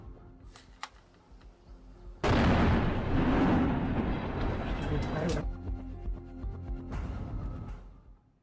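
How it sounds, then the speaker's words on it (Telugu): A roadside IED blast strikes a Pakistani army truck on a search operation in Balochistan, erupting suddenly as a loud, sustained roaring burst of several seconds after a quieter stretch, then easing back with a second rumbling surge. "సెర్చ్ ఆపరేషన్ నిర్వహిస్తున్న పాక్ ఆర్మీ సైనికుల ట్రక్ ను ఐఈడీ బాంబుతో పేల్చేశారు"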